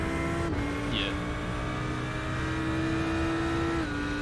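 GT3 race car engines drone and shift pitch as cars overtake at Zandvoort in a sim racing video game, a steady, close engine roar with gear changes, while people talk over it.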